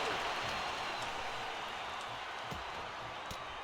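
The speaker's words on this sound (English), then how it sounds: "Listen to this crowd, driving these competitors to leave everything out in the ring." A wrestling arena crowd in the WWE 2K25 video game roars in a steady wash of cheering, broad and sustained throughout, with a few faint thuds underneath.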